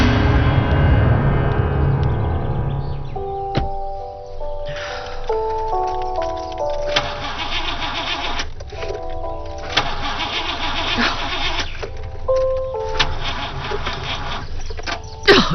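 A car engine cranks repeatedly and fails to start, with a low grinding whir at first, then rhythmic starter-motor turnover in several separate attempts, loud and close.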